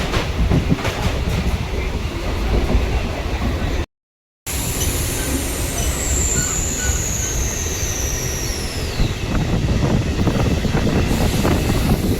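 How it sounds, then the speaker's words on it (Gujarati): A train rumbles steadily along the rails toward Anand with wind buffeting the microphone, and a long high wheel squeal rises midway before fading. "તો હવે અમે જઈશું ટ્રેનમાં બેસીને આણંદ."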